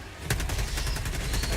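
Rapid automatic gunfire in the video game Helldivers 2, a dense, loud burst of sharp shots in quick rhythm over a heavy low battle rumble, with no talking.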